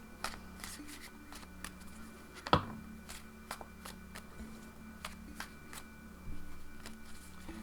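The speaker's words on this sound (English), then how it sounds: "give me a moment to shuffle the cards" A trimmed watercolor tarot deck is shuffled by hand, soft repeated riffles and card flicks close to the microphone in a quiet room, with one sharper snap early on.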